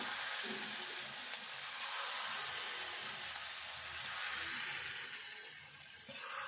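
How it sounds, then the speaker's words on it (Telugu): Chegodi dough rings dropped into hot oil in a kadai, frying with a dense, continuous crackling sizzle that stays loud and steady throughout before easing slightly near the end. "నూనె వేడైంది ఇప్పుడు ఇది నూనెలో కలుపుకొని వేసుకోవాలి"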